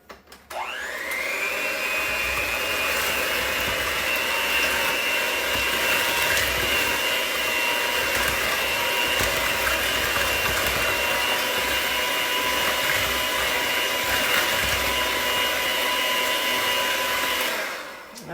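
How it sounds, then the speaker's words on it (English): An electric hand mixer with one beater whirs steadily at high speed for about seventeen seconds while mixing oatmeal pie batter, close up with no talking. "So I'm just going to get my mixer. And my 1 blade here and just kind of mix this up."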